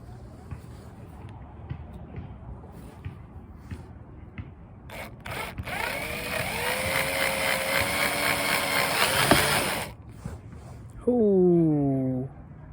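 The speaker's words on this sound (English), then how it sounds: "I'm just gonna start with this smaller bit, kind of like pilot hole it, and then full size it up to something else" A power drill bores a pilot hole with a small bit into a Ford Mustang's trunk lid for a spoiler install, a steady whirring drone that swells over several seconds and then cuts out, with a brief rising whine afterward.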